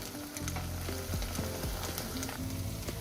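Spinach fries in hot oil in a pan, making a dense, close sizzle broken by repeated scraping and stirring strokes across the short stretch.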